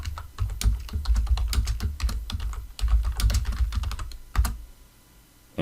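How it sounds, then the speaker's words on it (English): Rapid typing on a computer keyboard while entering a username and password, a close, busy patter of key clicks in irregular bursts with brief pauses, no voices. "you type in your username, you type in your password"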